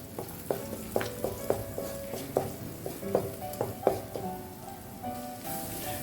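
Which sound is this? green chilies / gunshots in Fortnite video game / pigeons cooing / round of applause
green chilies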